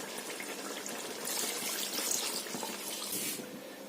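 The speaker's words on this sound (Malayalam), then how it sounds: "ഇനി ഇതിലോട്ട് നമുക്ക് ഈ ചൂടാക്കി ഇട്ടേക്കുന്ന വെള്ളം ഒഴിച്ചു കൊടുക്കണം." Hot water is poured into a pot of Ambur biryani, a brief splashing gush that swells midway and then eases off, with no talking.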